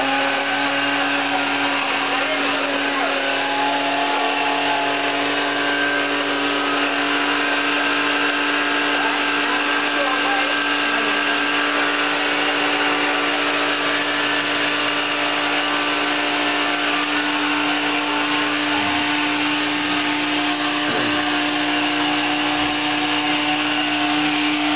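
A kitchen blender whirs steadily, blending banana soufflé batter with lemon juice, a constant close motor drone running the whole time with slight shifts in pitch near the end as the load changes.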